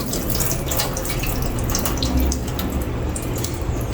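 Tap water runs steadily into a kitchen sink while fish is rinsed under it, a continuous broadband splashing hiss with slight fluctuations and no talk.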